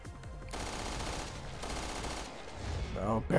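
Barry firing his gun in the video game Resident Evil Revelations 2: rapid repeated shots rattle at moderate volume for most of the stretch, and a voice rises at the end.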